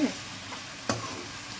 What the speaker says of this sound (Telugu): ఈ మసాలా అంతా కూడా బాగా వేగి దొండకాయకి పట్టేలా వేయించుకోవాలండి